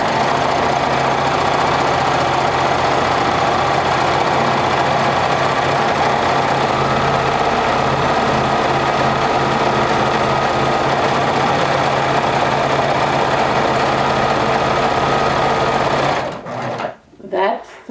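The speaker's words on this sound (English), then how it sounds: "I'm going to take this to the cover stitch and top stitch the seam allowance up." A cover stitch machine topstitches a seam allowance on a layered garment panel, running in a loud, steady, continuous mechanical whir for about sixteen seconds before stopping abruptly.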